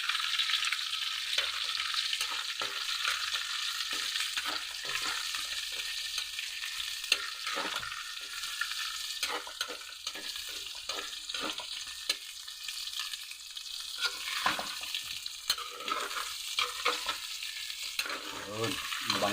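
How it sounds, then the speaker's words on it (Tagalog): Garlic and onion sauté in a pan for pork humba pata, a continuous bright sizzle broken by frequent scraping and clinking stirring strokes, close and constant throughout. "gigisa na tayo ng ating bawang. Isabay natin yung ating sibuyas."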